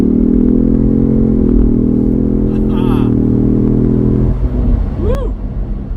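A 2025 Ford Bronco SUV accelerates hard on the highway with its throttle floored, a loud, close engine drone rising steadily for several seconds before easing off, with rumbling road noise underneath.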